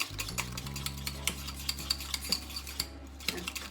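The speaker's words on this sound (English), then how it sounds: "With the eggs, you don't actually need to do anything, just whisk them a little bit." Eggs being whisked in a bowl for a Pastel de Nata custard, a steady run of quick light clinks and taps of the whisk against the bowl, close and fairly quiet, with no talking.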